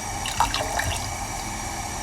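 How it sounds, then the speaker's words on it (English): Warm water poured into a pot of Hungarian fisherman's soup, a steady close trickle and splash that runs throughout with a few brighter bubbling accents early on. "we are going to add a bit of water to dilute it. I use warm water"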